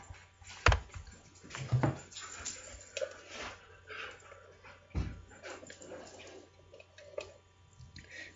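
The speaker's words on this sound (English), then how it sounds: "my dog going apeshit in the background" A dog barks wildly in the background of a room, in irregular bursts of yelps and snorts mixed with splashy, dripping noises. It is fairly faint and uneven throughout.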